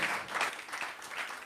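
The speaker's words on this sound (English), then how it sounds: "Let's give President Adesina a louder round of applause." A crowd at a youth climate-adaptation awards ceremony bursts into brief, lively applause for a president, many hands clapping briskly in a short, full-sounding burst.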